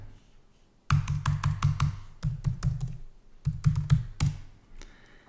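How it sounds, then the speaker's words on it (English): Keys clatter on a Mac keyboard as a terminal command and password are typed, coming in quick bursts of close, crisp taps separated by short pauses. "So type in sudo apt-get update, and your password"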